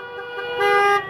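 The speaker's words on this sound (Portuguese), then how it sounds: "Pessoal pedindo para buzinar" A car horn honks in a steady sustained blast at a street protest beside the BR 470 highway in Bento Gonçalves, loud and near, swelling briefly in the middle.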